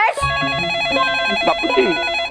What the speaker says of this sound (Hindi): तो फोन उठाओ, ये मेरे पेंशन का फोन होगा।